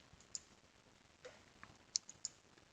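Faint, sharp computer mouse clicks come during a Microsoft Forms and SharePoint booking-form setup: a few isolated clicks spread across a quiet background, including a quick cluster of two or three near the end.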